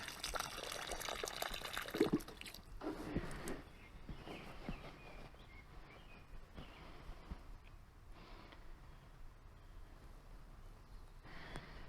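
Water poured by hand onto the soil around a newly planted own-root rose in a garden, a soft splashing trickle that is strongest early and then tapers into quieter dripping and soaking, with faint birdsong in the background.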